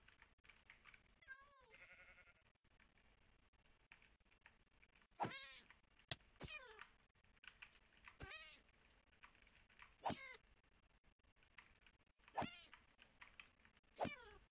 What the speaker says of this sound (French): Pourquoi j'ai un chat? J'aime pas entendre des chats.